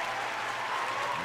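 A brief, steady wash of applause, even and continuous throughout, with a faint tonal hum underneath.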